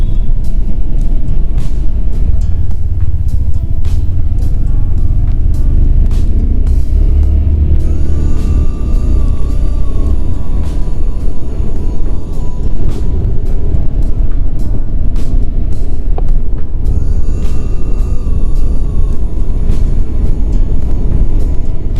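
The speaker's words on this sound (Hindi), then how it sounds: "और ये हमारे उत्तराखंड का ट्रैफिक।" Road traffic in Uttarakhand heard from a motorcycle rider's helmet, a loud continuous rumble of engines and passing vehicles with wind noise throughout and occasional higher tonal horn-like notes.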